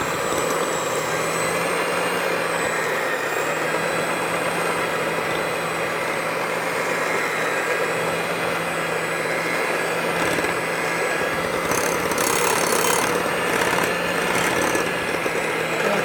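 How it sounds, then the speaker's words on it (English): A steady, loud electric mixer creams butter and sugar, whirring continuously, its motor drone unbroken throughout, with a brief rattling patch near the end. "I am going to mix them with the blender."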